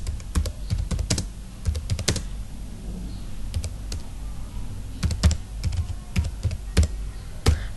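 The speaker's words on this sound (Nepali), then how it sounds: "यहाँनेरि म केही टेक्स्ट टाइप गर्ने छु" Fingers type text on a computer keyboard in a Notepad lesson, giving irregular bursts of close, crisp key clicks with brief pauses between runs and no talking.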